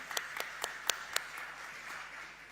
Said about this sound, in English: can we applaud that, please?